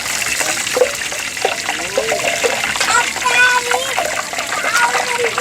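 Tilapia fish fries in hot oil with a steady, busy crackle and hiss throughout, while someone talks over it.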